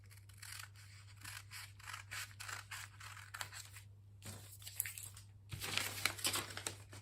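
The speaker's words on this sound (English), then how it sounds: "Then you cut the neck." Scissors snip through fabric along a neckline in a steady run of close, crisp cuts with short pauses, over a low constant hum and no speech.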